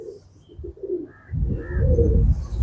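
Pigeons coo on a rooftop in low, rolling murmurs close by, the throaty calls growing fuller and louder toward the end.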